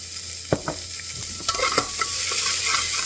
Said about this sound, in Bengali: এরকমভাবে পেঁয়াজটাকে একটু ভাজবো।